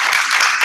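A short, dense burst of audience applause at a Paycation travel club presentation in Bermuda, loud and close, filling the whole moment.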